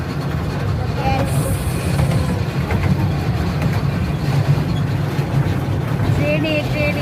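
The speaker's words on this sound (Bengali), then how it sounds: "ট্রেনে ট্রেনে চলেছি আমরা সবাই মিলে" A train runs along rails on a short trip, a continuous loud rumble and clatter filling the whole stretch, with people chatting and singing over it and a few faint high whistles or squeals.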